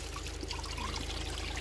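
Water trickling steadily from a public fountain tap (cismea) at night, a continuous close pouring stream with no talk.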